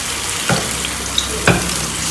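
Banana slices frying in hot oil give a soft, steady sizzle nearby, broken by two sharp knocks about a second apart, with no voices.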